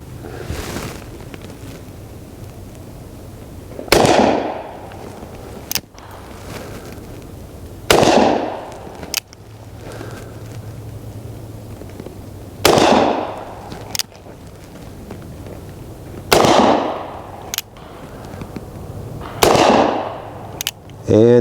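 Muzzleloading guns fire on Patriot's Day, each a sharp, loud blast followed by a short rumbling tail, about six shots spaced a few seconds apart, with brief clicks and handling noises between them.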